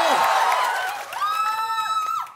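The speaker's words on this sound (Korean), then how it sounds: "소리 질러라!" A Korean comedy stage show crowd cheers and shouts in a dense, loud roar, with a performer's drawn-out vocal exclamations riding on top.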